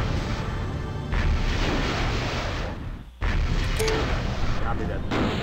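Enemy fire hitting a mech in the strategy game MechCommander, dense rumbling impacts and blasts filling the scene almost without pause, with a brief dip before the barrage resumes and radio-style voices speaking underneath.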